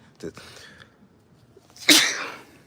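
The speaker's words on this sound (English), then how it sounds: "All that good energy just make you sneeze." Outdoors in the Appalachian Mountains, a short breathy sound, then after a pause a single loud, sharp sneeze that trails off into an exhale.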